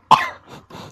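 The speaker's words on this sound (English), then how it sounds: "I just coughed in my honor." A single sharp cough close to the mic, followed by a couple of softer throaty breaths.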